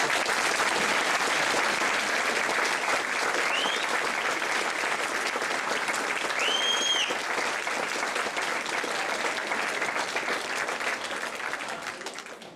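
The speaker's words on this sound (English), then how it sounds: "they get a really great round of applause for everything that they do" An audience at an amateur stage production of Jack the Ripper gives the technical crew a long, sustained round of applause, even and full for most of its length before tapering off near the end.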